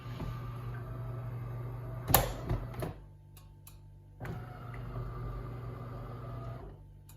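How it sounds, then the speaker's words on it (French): A DeLonghi Magnifica espresso machine brewing, a low steady pump hum with a loud clunk and grinding burst near the middle, then a second stretch of humming before it stops, fairly quiet overall. "Alors, le café est en train de couler."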